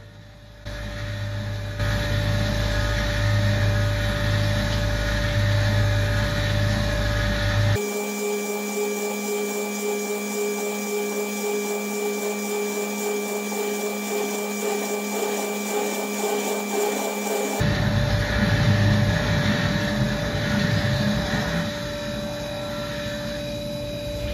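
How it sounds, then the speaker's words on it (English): Tormach CNC mill making a chattery finish cut in heat-treated 4140 steel, a steady loud grinding whine with tonal chatter that drops to a harsher, thinner tone midway before the fuller sound returns. "tried slowing the feed down to eight on that finish cut, and it was still pretty chattery"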